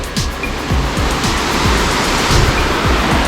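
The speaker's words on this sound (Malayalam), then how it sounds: "ഇതുണ്ടോ വെള്ളച്ചാട്ടത്തിൻ്റെ ഒരു സൈഡാട്ടത്" Maarikkuthu waterfall on the Wagamon route roars steadily and close by as a dense, unbroken rush of falling water with no voices.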